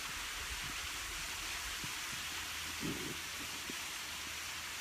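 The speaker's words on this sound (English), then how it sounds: "Oh nice, a waterfall." Steady broadband rush of a waterfall at a forest drop-off where chanterelles are foraged, a continuous wash of falling water with a few faint low thumps underneath and no voices.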